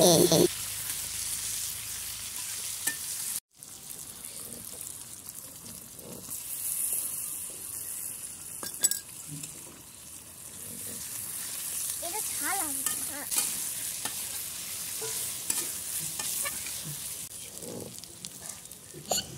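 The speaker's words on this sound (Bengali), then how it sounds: "পেঁয়াজটা একটু ভাজা হলে সেদ্ধ করে রাখা রসুন দিয়ে দেব" Chopped onion frying in a pan with cumin and chilli, a steady close sizzle with occasional spoon scrapes and clinks, broken by a short cut near the start, with faint background sounds.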